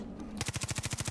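Rapid automatic gunfire from Far Cry 5 rattles off in an even, loud burst of about a dozen shots while shooting at eagles, after a brief quiet lead-in.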